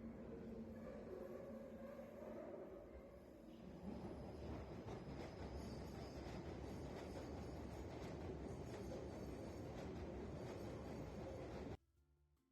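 A London Underground train rumbles loudly and steadily, a dense roar with wheel and rail noise that fills nearly the whole stretch, then cuts off abruptly near the end.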